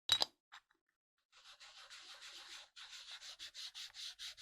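A small ink pad rubbed across stamping foam in quick, even back-and-forth strokes, soft and close, with a few brief taps before the rubbing starts.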